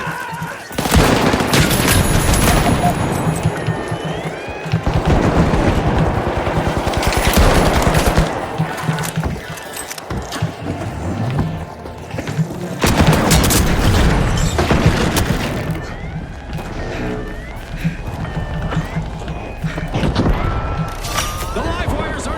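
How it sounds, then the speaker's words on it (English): Rapid automatic gunfire with booming explosions, one of them a frag grenade, in a heist-style shooter game, loud and dense in bursts, with a voice talking over parts of it. "Frag grenade"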